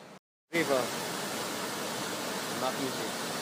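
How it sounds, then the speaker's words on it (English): Fairy waterfall in Vietnam rushes in a steady, even roar after a brief silent gap at the start, moderately loud, with faint voices talking underneath. "The fairy waterfall, right? Fairy pond? Yes. We hear it."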